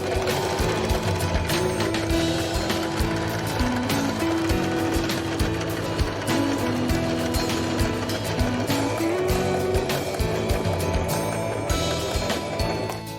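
A Janome 1522 PG sewing machine stitches fabric in a steady, fast mechanical chatter, loud and close, running almost continuously with slight shifts in speed and no talking.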